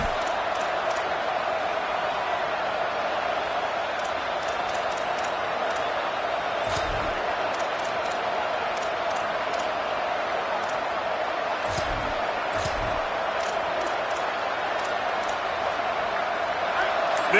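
Steady stadium crowd roar at a college football game, a continuous dense wash throughout with a few brief thumps, no distinct talk standing out.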